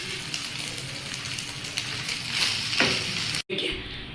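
Cooked rice is stirred into a frying prawn mixture in a pan for Kerala-style prawn rice, giving a steady, close sizzle with scraping and tossing that swells slightly near the end, with no talking.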